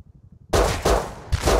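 Loud gunshots in the survival game Rust: after a quiet, muffled lead-in, three sharp, booming blasts ring out in quick succession, each with a short rumbling tail.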